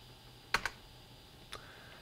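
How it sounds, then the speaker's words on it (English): Soft keystrokes on a computer keyboard while entering data in an Excel 2013 spreadsheet: a quick pair of clicks followed by a single tap, faint and close in a quiet room. "Now let's go to the last name and start to type in Jones."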